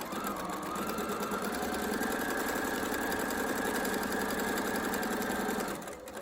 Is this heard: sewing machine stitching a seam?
yes